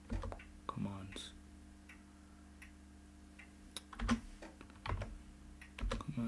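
Soft clicking keystrokes on a computer keyboard come in short bursts with pauses, close and fairly quiet, while a person talks over part of the typing.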